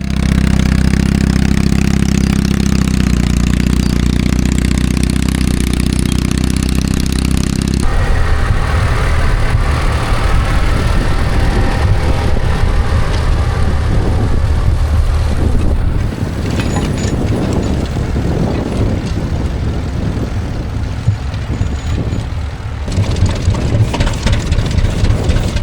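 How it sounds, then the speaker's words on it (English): A 1937 Bristol 10 small tractor engine runs steadily at close range, a loud low chugging idle that shifts in tone partway through and keeps going throughout. "One of the smaller tractors is this Bristol 10, which dates from"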